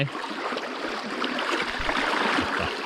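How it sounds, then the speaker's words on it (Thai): A muddy forest stream flows in a soft, continuous burble and rush, close by at a fishing spot. No voices are heard over it. "ตอนนี้เราก็มาตกปลาที่อ่าต้นน้ำนะครับ ห้วยน้ำขุ่นที่ไหลมาจากห้วยปลาคอกนะครับ"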